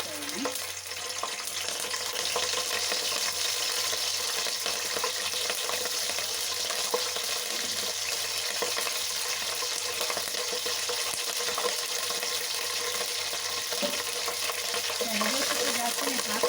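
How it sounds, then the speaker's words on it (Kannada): Curry leaves sizzle in hot oil, a loud, steady, close crackling hiss filling the whole stretch with occasional faint pops, while cooking a chicken fry. "ಇಷ್ಟು ಕರಿಬೇವು ಹಾಕ್ಕೊಳ್ತಾ ಇದ್ದೀನಿ."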